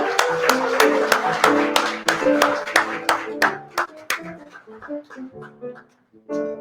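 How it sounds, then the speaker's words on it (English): Enthusiastic applause from an audience, dense clapping that thins out and fades into scattered claps before a voice begins. "Give her a round of applause."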